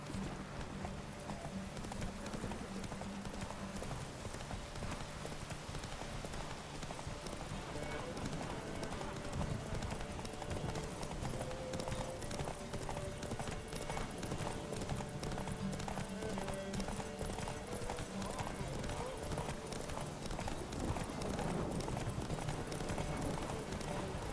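Horse hooves clip-clop steadily at a gallop in The Witcher 3 Next-Gen, a continuous rhythmic pounding lasting the whole stretch, with character dialogue and occasional voice lines over it.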